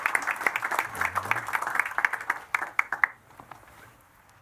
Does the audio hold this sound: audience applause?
yes